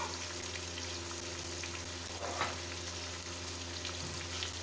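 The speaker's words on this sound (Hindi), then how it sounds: "अब इसका कलर चेंज हो गया, हमने 2 मिनट के लिए फ्राई कर दिए इसे।" Chicken biryani masala frying in a pan, a steady close sizzle with a brief stir-like clatter partway through, no voices.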